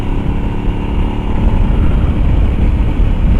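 A 2024 KOVE 800X adventure motorcycle engine running at speed, a loud, steady low drone with a gritty rumble that swells slightly midway and holds constant, captured close with wind noise and no voices.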